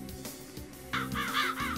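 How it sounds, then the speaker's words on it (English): Crows caw in the Chicago 1930 setting of the game Mafia, a few harsh, repeated calls in quick succession, loud and close after quieter bird sounds. "Why all these crows"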